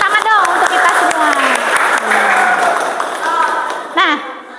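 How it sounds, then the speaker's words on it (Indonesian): A school class claps together in a classroom, with a bright, rapid patter of hands mixed with excited children's voices calling out loudly over it, ending with a short burst of cheering. "Kasih tahu tepuk tangan dong untuk kita semua"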